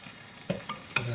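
Bolognese ragu with thick passata stirred in a pan: two quick spoon scrapes over a faint, steady sizzle, close and brief.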